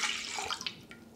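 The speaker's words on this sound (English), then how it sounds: "Here I'm going to pour cranberry juice" Cranberry juice poured into a glass while making a holiday virgin mojito, a brief close splashing trickle of liquid with no talk.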